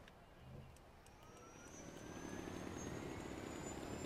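A helicopter in the Far Cry 4 video game whirs faintly and steadily, its engine tone swelling slightly louder over a few seconds with a thin whine rising on top, no one speaking.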